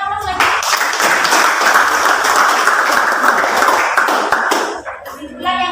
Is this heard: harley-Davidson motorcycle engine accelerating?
no